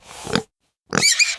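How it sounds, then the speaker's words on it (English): Pig grunting in two short bursts separated by a silent gap, close and fairly loud, with no talk over it. "Pig."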